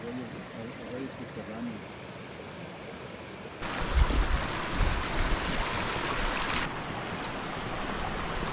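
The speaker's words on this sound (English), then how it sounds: "The waterfall, it's pretty cool." A mountain waterfall on a high-altitude hike roars as a steady rushing wash of water that grows suddenly louder and closer partway through, then eases back.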